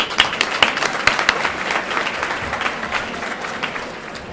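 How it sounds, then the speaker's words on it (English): An audience at a lunchtime Food As Medicine event applauds to welcome holistic health coach Elizabeth Lundberg, with close, distinct individual claps standing out from a lively, uneven round that fades toward the end. "So please give a round of applause to Elizabeth Lundberg."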